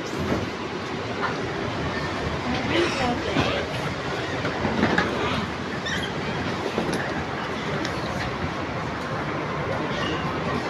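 An airport shuttle train rolls along with a continuous rumble and clatter, heard from inside the car, with voices faint in the background.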